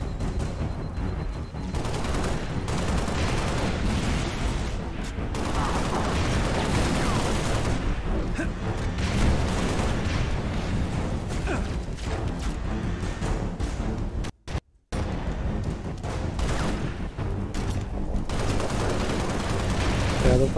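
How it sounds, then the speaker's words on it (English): Dense, continuous gunfire and explosions from the Halo Reach video game, loud and sustained throughout with only a brief gap near the end, under and between voices. "Enemy fire."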